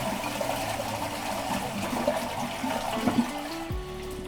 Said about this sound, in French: Ensuite, je peux tirer la chasse, du coup.